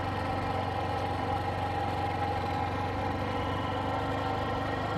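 A boat's engine drones steadily and continuously at a camping spot beside the water near Kabini forest, with a constant low hum and no voices.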